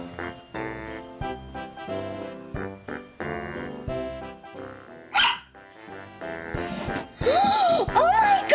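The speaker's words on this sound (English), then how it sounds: "It's a puppy!" A Christmas surprise puppy gives a series of close, sharp yips and barks mixed with low growls, amid jingling sounds, and excited voices rise up over the last few seconds.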